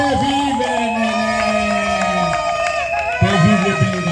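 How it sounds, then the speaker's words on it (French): Guests at a civil wedding cheering the couple, a crowd of overlapping high-pitched joyful cries and whoops, loud and close and sustained throughout. "moi je vais demander à l'ensemble d'acclamer le couple très fort avec les cris de joie"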